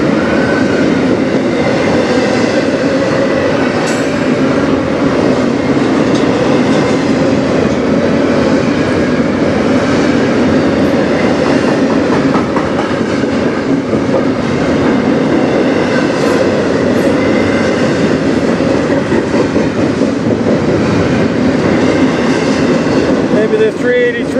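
A CN freight train rolls past on the Strathroy Subdivision, a steady loud rumble of wheels and cars with clickety-clack and occasional squeal, close by and sustained throughout, with a voice speaking over it.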